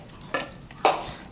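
Lemon-dressed charmuri puffed rice, with coconut oil already added, being mixed in a bowl: two brief clattering knocks of utensil against the container, the second louder, amid quiet rustling.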